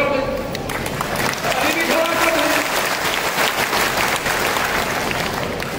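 A crowd applauding continuously at a Jatav community conference, a dense, steady wash of clapping throughout, with a voice briefly heard at the start.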